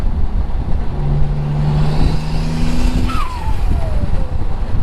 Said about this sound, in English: Blow-off valve is amazing.